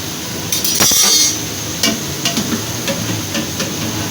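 Beef pieces dropped into a hot pot for yakhni pulao, with a few sharp clinks and thuds of meat and utensil against metal over a steady, loud sizzle of frying.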